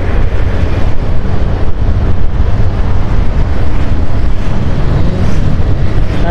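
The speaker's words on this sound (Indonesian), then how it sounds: "terus kena angin juga ya, agak berisik" Steady, loud wind buffeting a helmet-mounted microphone while riding a motorcycle, a continuous low roar and rumble with no pauses or talk throughout.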